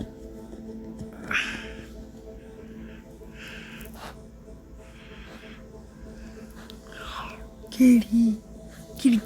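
Cat meows and caterwauls from the video game Evil Nun 2, several short calls over game ambience, with a few louder bursts near the end.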